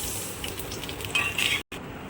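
Payesh is stirred in a pot after ghee-fried coconut, cashews and raisins are added, giving a close, steady sizzle and scraping with a brief scrape of a utensil near the end.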